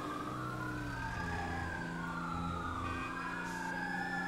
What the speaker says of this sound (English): There's more sirens.